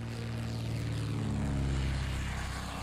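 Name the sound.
torpedo bomber aircraft engines in video game Order of Battle Pacific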